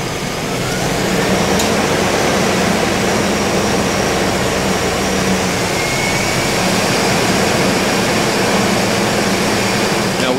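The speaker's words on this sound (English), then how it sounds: "I still have to raise the RPMs here" Car engine running steadily at raised RPM during alternator diagnosis, a loud, continuous broadband roar with a faint whine, close and unbroken with no talk.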